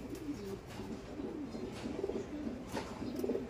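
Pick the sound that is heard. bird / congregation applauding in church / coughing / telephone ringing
bird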